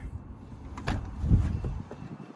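Power sliding door on a 2011 Toyota Sienna LE BraunAbility rampvan closing, a soft motorized rumble with a couple of muffled latch thumps near the end, heard up close and moderately loud.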